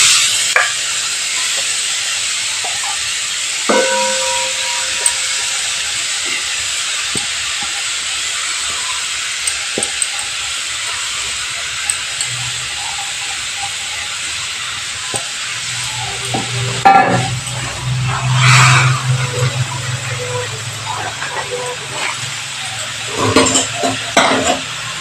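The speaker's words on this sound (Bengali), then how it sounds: "এবার চিনি আর গাজরটাকে আমি একসাথে ভালো করে ভেজে নিচ্ছি" Grated carrot frying with sugar in a pan for a stuffed carrot pitha, a steady bright sizzle and hiss with occasional stirring scrapes, louder bursts of spatter toward the end.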